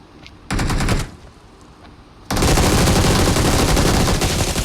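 Rapid automatic gunfire from the battle royale mobile game BGMI: a short burst, then a longer loud sustained volley of dense shots with no pauses.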